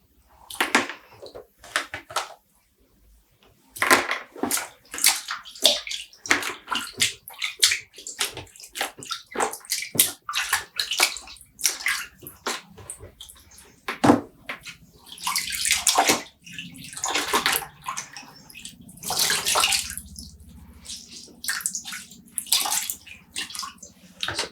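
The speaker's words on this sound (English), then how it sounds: "And we're adding them back in and giving them another quick rinse." Dyed embroidery yarn is rinsed by hand in water, making repeated close sloshes and splashes in irregular bursts with short quiet pauses between them, and no voice is heard.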